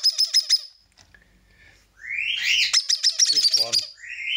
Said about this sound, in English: These are two little baby Rosifrons.